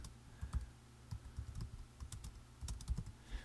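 Typing on a computer keyboard, heard as quiet, irregular clusters of soft key taps close by.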